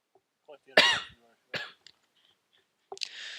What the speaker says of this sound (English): I'm gonna be coughing throughout the show.